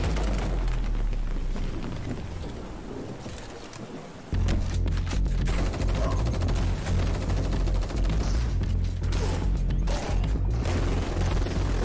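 Dual-wielded SMGs fire in a VR game trailer, a dense, continuous rattle of automatic gunfire over a heavy rumbling backdrop, loud and close throughout.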